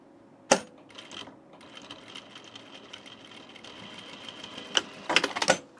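Sewing machine stitching a thick welt on an unlined blazer, the presser foot straining over the bulk; a sharp knock opens it, then a quiet mechanical run and a cluster of clacks near the end, close and with no talk.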